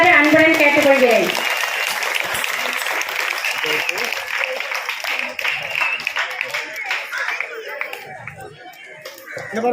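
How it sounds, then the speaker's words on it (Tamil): Students at a village union middle school's 2024 annual day applaud prize winners, a dense crowd of clapping that follows a moment of voice and continues steadily, with scattered voices mixed in. "மாணவர்கள் அனைவரும் பரிசு பெற்ற மாணவர்களுக்கு கரகோஷம் எழுப்பி அவர்களை மகிழ்விக்குமாறு அன்புடன் கேட்டுக்கொள்கிறேன்"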